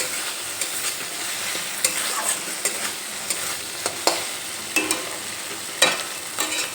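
Spice paste is stirred and fried in a pan, a continuous sizzle punctuated by regular sharp spatula scrapes and taps, close up with no voices.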